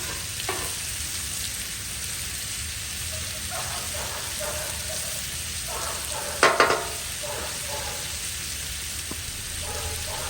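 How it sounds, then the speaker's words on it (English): Steady frying sizzle of food in a pan hisses throughout, with a brief louder clatter midway as the food is stirred. "Listen to the sizzle"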